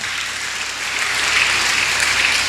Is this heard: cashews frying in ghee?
no